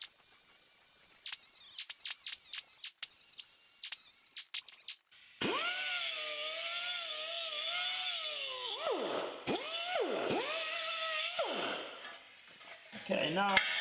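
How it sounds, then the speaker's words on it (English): Paint being stripped from a steel quarter panel of a 1959 VW Beetle ragtop, probably with a power abrasive: a harsh, steady grinding roar with wavering whine that dips and surges in bursts, following a stretch of thin high tones. "So I'm going to remove the paint from this."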